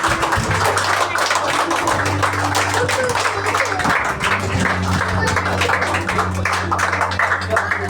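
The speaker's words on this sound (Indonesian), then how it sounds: "beri tepukan ke semua warga emas kita." A congregation applauds steady, dense clapping for the elderly honored at a joint church service marking a senior citizens' program, sustained for several seconds with a low hum and some voices underneath.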